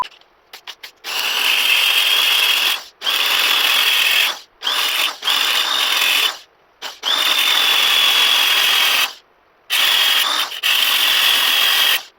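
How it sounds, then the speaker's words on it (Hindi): A power tool grinds through a seized, rusted bicycle nut in bursts of loud, high-pitched whining cuts, stopping and restarting about half a dozen times, close-up with short silent gaps between runs. "तो इस नट को काटेंगे।"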